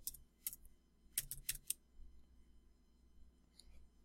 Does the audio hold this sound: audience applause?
no